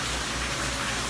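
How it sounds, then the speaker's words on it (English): Steady rain falls on a morning beach stay in Subic, a continuous dense hiss of drops on surfaces that stays even throughout, with no voices. "we are day 2 here in Subic and it's still raining"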